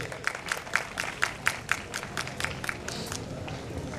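An audience claps in a steady, rhythmic beat at an annual award ceremony held by a computer institute. About four sharp claps per second carry on evenly without voices.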